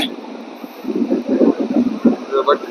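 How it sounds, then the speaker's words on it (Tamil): Strong wind gusts across the microphone on a beach, rough buffeting bursts that rise and fall over a couple of seconds, with a person talking through it. "இப்போ காற்று கொஞ்சம் கூடவே இருக்கும் இறைச்சலாக இருக்கும்"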